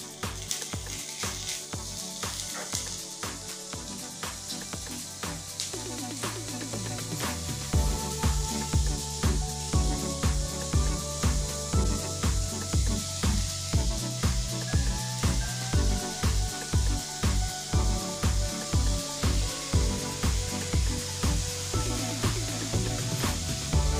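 Elephant foot yam stems sautéing in a pan with ground paste give a soft, steady sizzle and hiss, heard under rhythmic background music that carries a regular beat.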